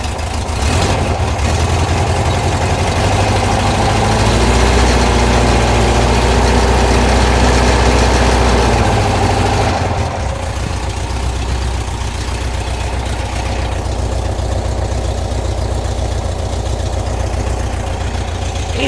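A 1972 VW bus engine, which has a dieseling issue, is held at raised revs with the throttle for about ten seconds, then drops back to a lower, rougher idle; loud, close and continuous.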